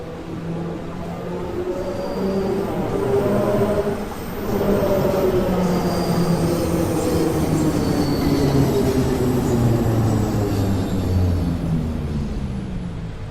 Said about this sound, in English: Oh, I see the sound of the air rush.